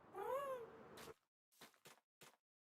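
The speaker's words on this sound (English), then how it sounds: "the cat's in the background" A house cat meows in the background with one long, wavering, drawn-out cry, followed by a few short soft bumps and faint noises in an otherwise quiet room.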